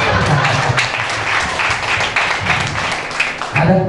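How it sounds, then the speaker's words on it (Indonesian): Close, energetic applause from a wedding crowd, dense clapping that holds at a steady level for several seconds. "Bisa kita beri tepuk tangan."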